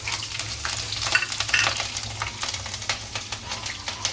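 Garlic paste frying in a pan of hot oil where mustard seeds have already popped, while pasta is being cooked: a steady close sizzle with scattered crackles and spits, carrying on alone without talk.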